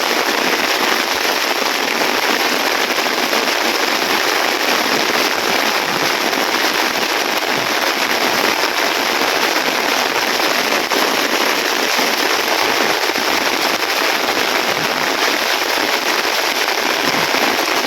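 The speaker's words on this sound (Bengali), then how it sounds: "কত স্পিডে বৃষ্টি আইতেছে" Heavy rain pours down steadily in a rural Bengal village in the morning, a dense continuous hiss of drops that is loud and unbroken throughout, with no voices.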